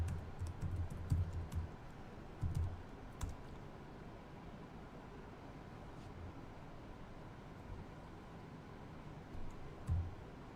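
Commands typed on a computer keyboard at a Linux terminal make faint, scattered clicks and taps in loose rhythm. A low background hum sits underneath, and a few slightly firmer keystrokes stand out.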